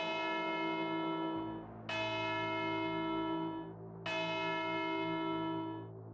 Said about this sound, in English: The grandfather clock in the hallway, a heavy mahogany beast inherited from an uncle he barely remembered, began to chime.